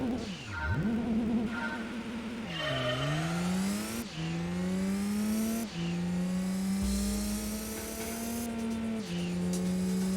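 A race car makes a quarter-mile drag strip run in the video game Gran Turismo 2. The engine screams up through the revs, dropping in pitch at each of several gear shifts, then climbs steadily, loud and close, with no talking.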